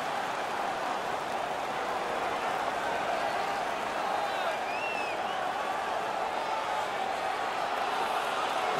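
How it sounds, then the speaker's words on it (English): Arena crowd in the NHL 19 hockey video game cheers after a fight, a dense, steady roar that holds at an even level from start to finish with no breaks. "The crowd is ecstatic."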